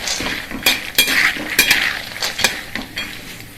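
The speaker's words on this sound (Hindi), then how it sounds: "अब हम इसमें डालेंगे चना दाल। ये डाल देंगे, इसको भी हमें भूनना है।" Chana dal being dry-roasted and stirred in a pan for poha namkeen, giving quick scraping clinks of a metal spoon against the pan in a busy, uneven rhythm, close and alone.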